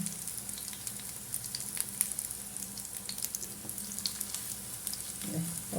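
Batter made from Amrutham nutrition powder sizzles and crackles steadily as it fries in a pan on raised heat, a continuous close hiss with small pops and a light clink near the end, no talking.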